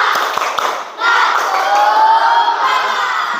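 A class of schoolchildren performs a spirit clapping chant during a lesson: a few sharp claps open it, then the group bursts into loud, sustained shouting together, close and energetic, with one rising voice standing out above the crowd.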